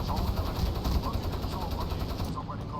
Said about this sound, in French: Je peux tirer avec la tourelle.